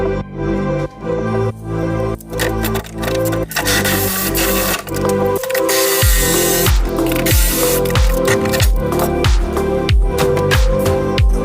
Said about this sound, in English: Sprayed some tactile body protection to prevent it from rusting.